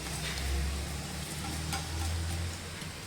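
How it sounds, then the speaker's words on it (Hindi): Chopped onions fry in about half a cup of hot oil for Irani fish tikka karahi, a dense, even sizzle with faint stirring, close and uninterrupted. "और अब मैं इसमें शामिल करूँगी ये प्याज 2 दरमियानी जो चॉप की हुई थी वो मैंने शामिल कर दी है"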